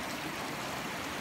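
A New Zealand stream flows beneath a high bridge, a steady broadband rush and trickle of water, continuous and moderately loud with no break across the short stretch.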